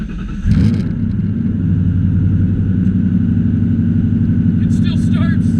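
A Foxbody Mustang engine cranks briefly and catches, then settles into a loud, steady, close-up rumbling idle that continues to the end.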